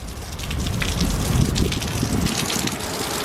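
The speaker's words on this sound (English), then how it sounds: "It looks like rain has stopped play" Steady rain falls in Barbados during a cruise port day, a dense, close hiss of drops pattering on surfaces with gushing water, and no voices.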